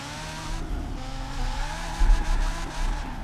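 A Lego Ferrari F40 model car sliding in first gear on a Lego racetrack, its engine droning with rising and falling pitch and brief tire-scrub bursts midway, close and fairly loud with no talking.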